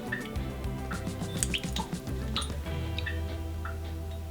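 Liquid aminos trickle and drip from a bottle into a small dish for a bacon marinade. Light splashy drips come close against a steady low hum.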